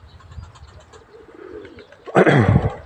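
Pigeons, including late-opening tumbler birds, coo in low murmuring notes, followed by a sudden louder burst that may be wing flapping near the end.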